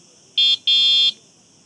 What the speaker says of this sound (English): Right here is a buzzer, just to alert people if they're in your way or whatever, and it's quite loud.